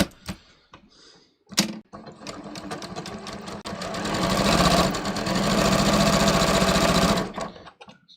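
A serger sewing machine stitches fabric, starting with a few short bursts, then running in a fast, continuous mechanical whir that builds and holds for several seconds before stopping, close and clear.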